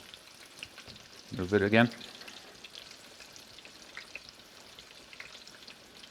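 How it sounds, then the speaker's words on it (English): Tonkatsu frying in scalding oil, a steady close crackling sizzle throughout, with a short spoken phrase briefly over it near the start. "Careful when you do this so that you don't spill the really scalding oil."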